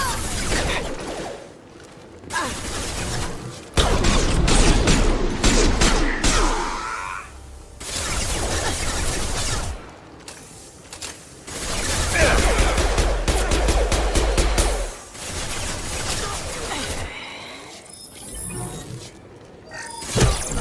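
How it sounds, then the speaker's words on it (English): Dense gunfire in the video game Mass Effect 2 comes in long rapid bursts with short pauses, loud and close, mixed with clattering impacts. "No one heard all that gunfire?"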